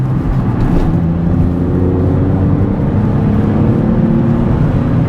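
A Porsche 996 pulls hard through long gears, its engine drone loud and continuous, with a steady rising tone and road rumble from inside the cabin.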